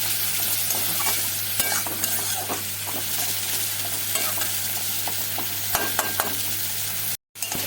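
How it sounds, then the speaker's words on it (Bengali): A banana flower mixture sizzles steadily in a pan while it is stirred, with repeated scraping and tapping from the utensil and a sharp cut to silence near the end. "সব একসাথে ভালো করে ভেজে নেব।"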